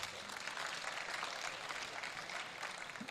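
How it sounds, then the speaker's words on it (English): A conference audience at a space expo gives a round of applause, with steady continuous clapping that sounds faint and distant throughout. "All right, another round of applause,"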